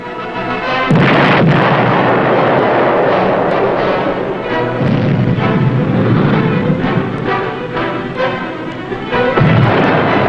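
Repeated depth charge explosions from a 1950s submarine TV drama, loud continuous booming blasts with heavy rumbling, several distinct detonations at the start and near the end, no voices.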